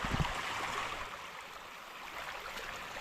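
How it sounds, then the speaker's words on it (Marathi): A rain-swollen stream beside farm fields rushes past steadily and fairly close, a continuous broad wash of flowing water with no talking. "इकडे पाणी बघताय पाराला किती आलं आहे पाणी खूप पाणी येते"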